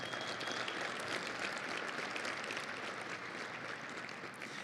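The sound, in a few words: audience applause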